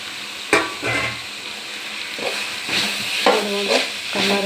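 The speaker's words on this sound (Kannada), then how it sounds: "ಇವಾಗ ಇದಕ್ಕೆ ಸ್ವಲ್ಪ ರೈಸ್ ಹಾಕ್ತಾಯಿದ್ದೀನಿ." Rice tipped into a hot frying pan and stirred, with soft sizzling and intermittent scraping strokes of a spoon against the pan, close and fairly quiet, no talking.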